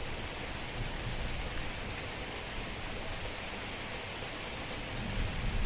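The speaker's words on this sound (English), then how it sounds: "You should not hear the thunder louder inside" Steady rain with a low rumble of thunder, heard from inside a building in the Skyrim video game, a continuous even wash of noise with no voices.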